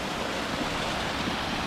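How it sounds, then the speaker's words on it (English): Steady rushing water fills the air, a constant broadband splash from a small waterfall heard up close on a mountain trail in the Lofoten Islands, Norway, with no talking. "There's a nice little waterfall here"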